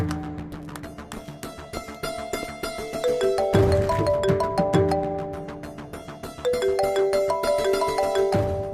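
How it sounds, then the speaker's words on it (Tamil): A phone rings with a repeating melodic tone, a steady chiming tune that cycles several times and grows louder partway through, with no talk over it. "அபி ஃபோன் பண்றான்."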